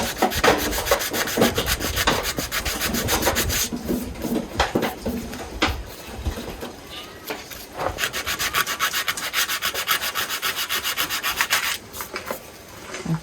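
Wood being hand-carved and rasped, with continuous close scraping and rubbing strokes in steady bursts, a brief pause midway before the rhythmic rasping resumes alone.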